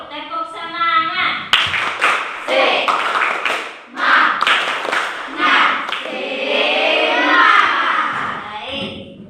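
A class of children in an Indonesian classroom performs a rhythmic spirit clap, with crisp patterned hand claps in quick groups and young voices chanting along.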